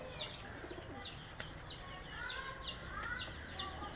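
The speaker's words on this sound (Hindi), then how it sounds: "ये अगर आप पीछे देखें तो ये कबूतर है" Rooftop pigeons, including green-tinged and large birds with colourful throats, coo and call softly amid chirps and light clatter, moderately near against a low background hum.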